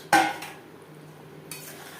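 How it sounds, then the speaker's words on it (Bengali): Fried katla fish pieces go into a tomato curry in a pan. There is a sharp metallic clink of a utensil against the pan, quiet stirring, then a second softer clatter, all close and fairly faint, with no talking. "তিন চার মিনিট রান্না করে নেওয়ার পর দিয়ে দেবো ভেজে রাখা মাছ"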